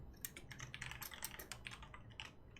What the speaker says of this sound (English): I'm not typing it in all caps.